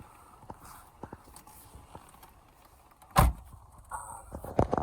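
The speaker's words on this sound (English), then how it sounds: "Trying to open this door from the back seat" A single sharp clunk of a Mercedes-Benz W211 E350 car door unlatching and opening from the back seat, close by, amid quiet rustling and small knocks inside the car.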